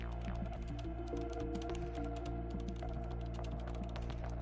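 A computer keyboard clicks steadily as a prompt is typed, the quiet rapid keystrokes sitting over a constant low hum with no voices.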